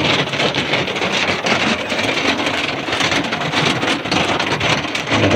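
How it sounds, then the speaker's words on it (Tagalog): Rain patters steadily outside a camper van at a campsite in Bamban, Tarlac, a dense, even hiss of drops striking a nearby surface, continuous and fairly loud with no voices. "Narinig nyo ba yung patak ng ulan sa labas?"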